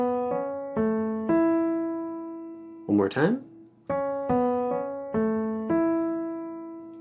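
A five-note ear-training melody on major pentascale degrees mi, re, mi, do, so rings out in clear, decaying keyboard-like tones, then a brief spoken phrase, then the same melody repeats.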